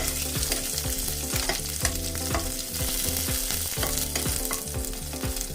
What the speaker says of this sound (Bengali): তেল গরম হয়ে গেছে, এর মধ্যে আমি দিচ্ছি 5 ফোড়ন আর কাঁচা লঙ্কা